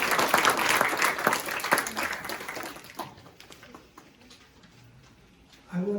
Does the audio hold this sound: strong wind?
no